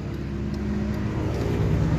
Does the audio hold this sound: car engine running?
yes